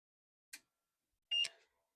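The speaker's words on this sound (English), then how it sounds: "you're gonna hear beeping from the speaker that's inside of the system" Two short, faint electronic beeps from a computer's internal system speaker on a surveillance server at power-on, the second slightly longer, separated by silence.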